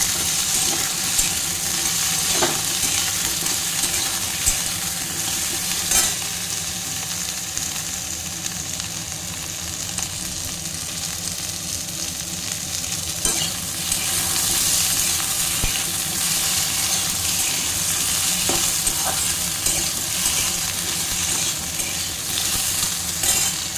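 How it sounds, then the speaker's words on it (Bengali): Food fries in a pan over a medium flame for a dal recipe, with a constant sizzle and intermittent scraping and clinking as it is stirred. "মিডিয়াম ফ্লেমে ভাজি, কারণ লো ফ্লেমে ভাজলে অনেকটা মানে সময় লাগবে"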